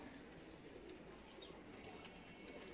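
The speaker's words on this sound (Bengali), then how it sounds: "তারপর এই যে খাকি কবুতর।" Pigeons coo softly in a home loft, with khaki and working pigeons mentioned, a faint low cooing over steady background hiss, no talk.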